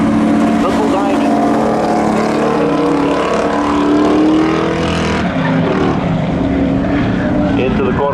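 Mitsubishi VR4 engine roaring at full throttle in a drag race at Seekonk Speedway, loud and continuous alongside another car, with an announcer talking over it.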